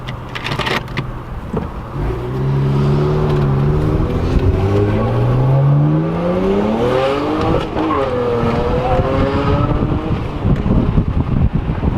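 A BMW with an N54 engine and performance exhaust accelerates hard, its rising engine note climbing through a gear shift, followed by crackling burbles and wind noise, loud and close.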